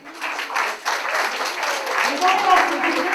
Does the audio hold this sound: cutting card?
no